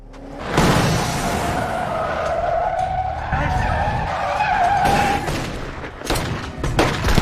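Car chase in an Indonesian crime film ending as the gang's car is forced to stop: loud tire skidding with a sustained screech and engine roar, followed by impacts and bursts like gunfire near the end.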